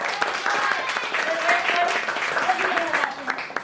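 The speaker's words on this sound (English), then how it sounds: "Nice job. Round of applause." Group applause at a historical walk-through event, clapping mixed with cheering voices and chatter, moderately loud and continuous.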